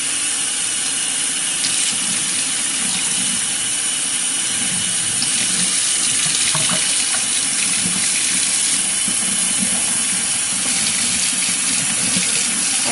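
Steady rushing water flows through an Aquanet 2000 colon hydrotherapy machine at a clinic, a constant broadband hiss like a running tap that continues unchanged for the whole stretch with no talk.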